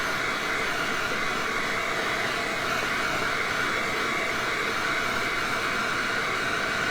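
A hair dryer blows steadily to dry paint on a leaf painting, a constant close whooshing hum running without pause and no talking.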